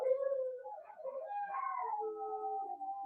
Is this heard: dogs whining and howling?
yes